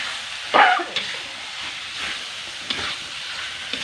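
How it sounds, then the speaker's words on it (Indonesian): Shredded chicken meat sizzles softly in a frying pan with red spice paste for ayam suwir, with a sharp clatter as it goes in and a few light scrapes of stirring over the steady crackle. "Kita masukkan ayamnya, dagingnya ya, kita masukkan pelan-pelan. Kita aduk."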